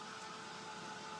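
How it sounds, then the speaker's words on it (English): A steady, even airy whoosh of a Ranger heat tool blowing continuously, close and moderately quiet, with no voices over it. "It's a Ranger heated tool."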